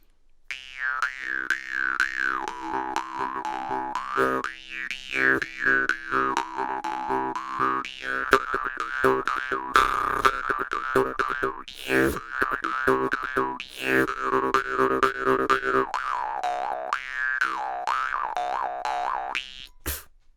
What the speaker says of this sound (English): this is a Jaw Harp, and this is how it sounds like